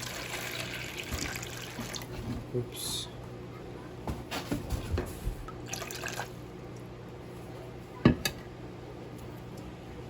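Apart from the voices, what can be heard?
water being poured into a container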